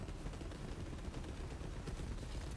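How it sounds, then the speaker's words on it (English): Enemies open fire with guns in the video game Borderlands 3, a dense, unbroken clatter of rapid gunshots lasting the whole moment with no one speaking. "Now they're shooting at me."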